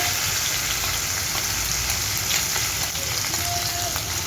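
Onion paste frying in a pan for a Bengali chorchori: a loud, dense, continuous sizzle, close up and unbroken throughout.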